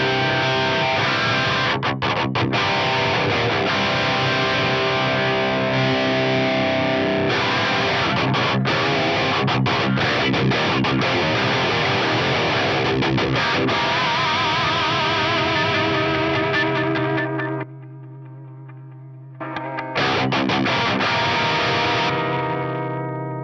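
A loud, heavily distorted electric guitar plays chords and riffs through a Boss GT-1000 with a front-end boost driving the amp, sustaining continuously, then a brief drop to near silence before it returns.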